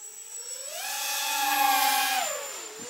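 A RoboCat 270 quadcopter drone flies at full throttle, its whining motor pitch rising, holding at a high steady tone and then dropping again, a fairly faint and short pass with no talking.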